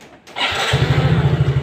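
Fuel-injected motorcycle engine fired up after a throttle body adjustment, a quick starter whir catching into a steady, close, rhythmic idle putter.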